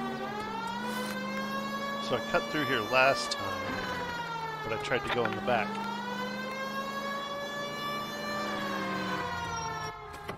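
A police car siren from the video game LA Noire wails steadily throughout, its rising and falling tone loud and continuous while someone talks over it.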